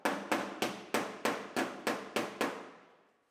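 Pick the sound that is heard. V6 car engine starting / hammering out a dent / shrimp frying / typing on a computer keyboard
hammering out a dent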